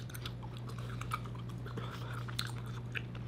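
Someone chewing fruity square candy snacks up close, with soft wet mastication and small crunching bites repeating steadily over a low constant hum.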